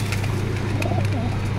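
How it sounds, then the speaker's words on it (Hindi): Pigeons, including red Rampuri birds at a loft, coo softly and repeatedly close by, low rounded calls over a steady low hum, with no voices. "लाल सुरके कबूतर"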